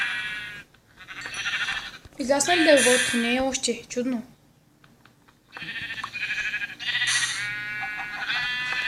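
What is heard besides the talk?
sheep bleating in Minecraft Skyblock video game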